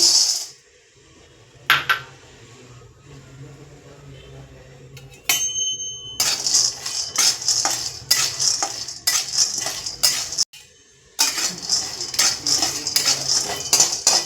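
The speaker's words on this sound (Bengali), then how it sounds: "বাদাম আমি শুকনো খোলায় ভেজে নেব।" Dry peanuts rattle and clatter in a hot metal kadai, stirred in repeated bursts of scraping and clinking with short quiet pauses between.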